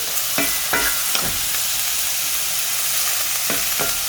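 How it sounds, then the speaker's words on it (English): Butter melting in a cast iron pan, a bright constant sizzle with a few scraping stirs spaced through it, close and fairly loud. "you want to throw a little bit of butter in there. Get that melted real quick."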